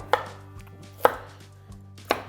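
Three evenly spaced knife chops hit a cutting board as carrots are cut to length for a broccoli cheddar soup, each a crisp, close thud over a steady low hum.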